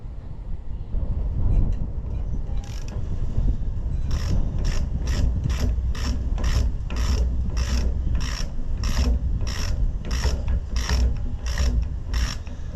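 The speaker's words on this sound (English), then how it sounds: "I guess I could use the ratchet." Ratchet wrench turning bolts during reassembly of an Allis-Chalmers WD tractor engine, its clicks arriving as a steady, evenly spaced series of sharp pawl ticks over a constant low rumble of background noise.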